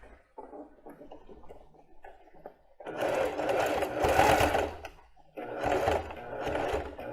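Domestic sewing machine stitches plus-size panties up close, starting with a short soft run and then breaking into two louder bursts of rapid whirring stitching separated by a brief pause.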